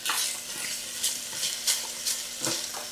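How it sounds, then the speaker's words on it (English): Onions sautéing with sausage in a pan for Italian bean soup, a close, continuous sizzle with rhythmic stirring bursts roughly every half second, no talking. "I like to always saute my onions in with my sausage while it's cooking."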